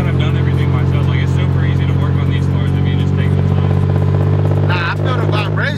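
Infiniti G37 engine running with heavy low exhaust drone, a loud continuous rumble close by with a brief rev near the end, while people talk over it.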